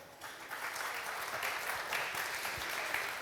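An audience at a scientific conference applauding a speaker, a dense sustained round of clapping from a crowd, steady and fairly loud for the whole stretch.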